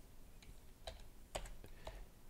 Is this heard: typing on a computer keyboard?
yes